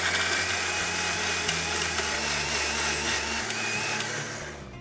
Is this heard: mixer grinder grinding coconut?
yes